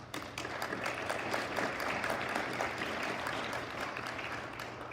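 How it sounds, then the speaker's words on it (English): Audience applause for the advisors who organized a 2022 National Honor Society induction ceremony, a steady, dense wash of many hands clapping at moderate level for about five seconds over a faint low hum. "Please join me in thanking them with a round of applause."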